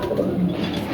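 Soft, close cooing of pet pigeons, a couple of low throaty coos rolling over quiet background hiss.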